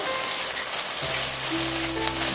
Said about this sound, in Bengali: ভালো করে এইভাবে কষাতে থাকবো যতক্ষণ না আদা রসুনের কাঁচা গন্ধটা চলে যাচ্ছে